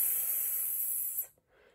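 A voice imitates the soft /s/ sound of the letter C, a steady breathy hiss held for over a second, then cut off, followed by a faint short trailing breath; close and alone with no other talk.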